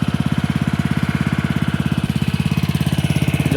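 A Honda mini pump set engine runs loud and close, chugging in a fast, steady, even rhythm for the whole stretch.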